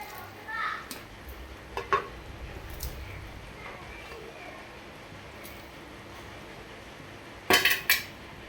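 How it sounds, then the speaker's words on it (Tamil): Fish pieces dropped into a simmering fish salna, with a pot scraped and stirred: scattered metallic clinks and taps over a low bubbling background, then a sharp pair of clanks near the end. "இது மாதிரி இப்போ மீன் போடணும்."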